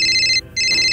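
Close, loud electronic phone ringtone for an incoming call, a bright sustained tone that drops out briefly for a fraction of a second before resuming.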